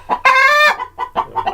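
Hens in a backyard chicken coop cluck and squawk in agitation, with one long loud harmonic squawk followed by several shorter, choppier clucks close by.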